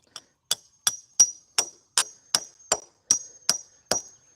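A hammer drives 1-foot rebar stakes into the ground at the corners of a raised garden bed box, ringing out eleven sharp metallic strikes at a steady, even rhythm, close and clear with silence between blows.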